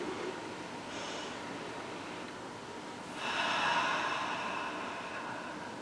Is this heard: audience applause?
no